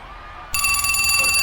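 A telephone starts ringing abruptly, loud and close, with a steady repeating electronic bell tone that continues after a brief quiet room moment.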